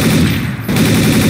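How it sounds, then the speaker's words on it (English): A submachine gun fires a loud, rapid continuous burst in Counter-Strike: Source, with a tiny gap midway before the stream resumes. "I'm good with the SMG"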